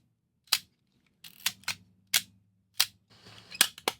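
A Voigtlander Bessa rangefinder film camera with Leica M mount fires its shutter again and again, each close mechanical snap crisp and isolated, with faint winding clicks between releases.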